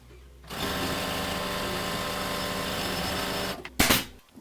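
A sewing machine runs steadily for about three seconds, stitching piping onto a tall upholstered headboard in a sunny workroom, then stops with a brief clatter at the end.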